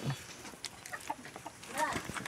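Chickens cluck and squawk nearby in a few short, scattered bursts, with faint background noise and a voice.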